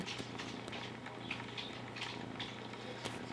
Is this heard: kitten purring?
yes